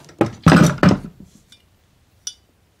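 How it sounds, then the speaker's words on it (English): Bolt and carrier of a Cheetah 12 shotgun being handled during a field strip: three close, heavy metallic clunks in quick succession, then a couple of faint clicks and one sharper tick. "Take a look at our bolt and carrier."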